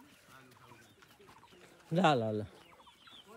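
A chicken being caught in a farmyard lets out a loud, harsh squawking burst of about half a second, standing out against quieter clucking and people talking nearby.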